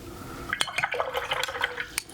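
A paintbrush is rinsed in a water container during watercolor mixing, with close, light sloshing and clinking dabs in a quick irregular burst, heard alone without speech.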